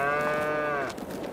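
Cattle in the Farming Simulator 22 video game give one long, loud, drawn-out moo with a falling pitch that fades slightly at the end.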